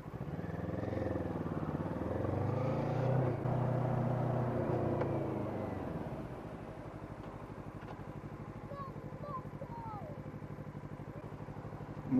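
A motorcycle passes on the road, its engine rumble loud and close for about six seconds, then fading into a steady lower drone with faint background sounds.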